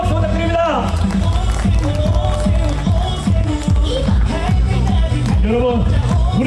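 At an outdoor campaign rally in Sinchon Star Square, Seoul, a crowd claps in a dense, steady patter, loud and close, while amplified talk carries over it.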